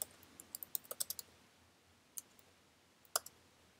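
Quiet, crisp keystrokes on a Mac computer keyboard: a quick run of clicks, a pause, then a few scattered taps, close and faint with no speech.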